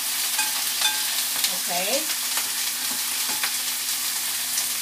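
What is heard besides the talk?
onions sautéing in a pan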